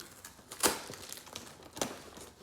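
Quiet crinkling of a clear plastic bag holding an Anthurium clarinervium plant, in a few sharp bursts, close and soft, with small rustles between them.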